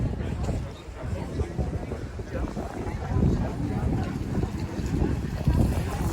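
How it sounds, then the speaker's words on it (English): Gusty wind buffets the microphone in low, rumbling bursts at a Frankfurt Christmas market at night, with people talking faintly in the background. "You can see how windy it is."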